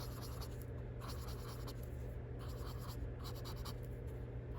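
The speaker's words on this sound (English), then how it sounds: "you are actually moving the pigment around on the paper" Color charcoal pencil pigment blended on paper, a continuous close scratchy rubbing in short repeated strokes over a steady low hum.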